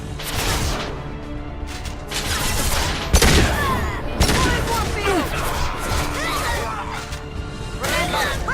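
Dense, continuous gunfire from a Mass Effect 2 firefight: overlapping rifle bursts, impacts and crashes fill the whole stretch at high volume, with shouted combat voices mixed in.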